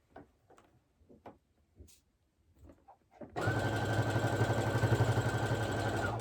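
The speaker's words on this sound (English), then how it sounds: "I'm just sewing up to where we had started the leg seam and just going over" A sewing machine runs a steady fast stitch along a trouser leg seam, loud and close, after a few seconds of quiet fabric handling and small clicks.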